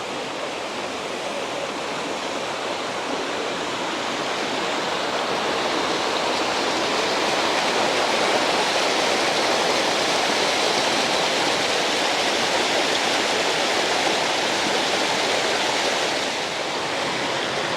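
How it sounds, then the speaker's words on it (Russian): The Algar waterfalls in the mountains of Spain roar in a steady, dense rush of falling water, close and loud, holding an even level throughout without any voices. "Вы видите водопад"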